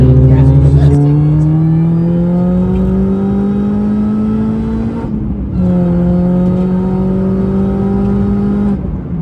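A supercharged R53 Mini Cooper S on air suspension revs hard twice, each rev a long loud rising engine whine with a brief dip between, very close, with voices talking under the noise.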